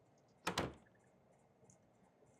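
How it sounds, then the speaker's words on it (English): Two quick heavy thuds and scrapes of a stubborn door being forced open in a horror video game, close and short, followed by quiet room ambience and faint clicks. "The door struggles to move"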